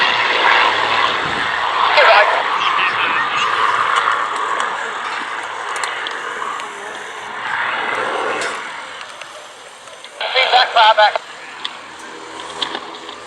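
A steady drone of large propeller aircraft engines fills the air overhead at an airshow, with a brief louder rumble near the end.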